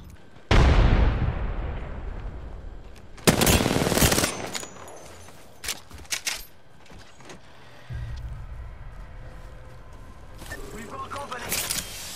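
Apex Legends gunfire: several loud bursts of rapid shots with sharp echoing cracks, the heaviest near the start and again a few seconds in, then scattered lighter shots over steady background game noise.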